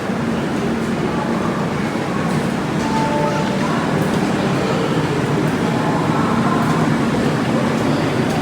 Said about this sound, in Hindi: तो आइए थोड़ा सा आपको दिल्ली कैंट का रेलवे स्टेशन भी दिखा दो,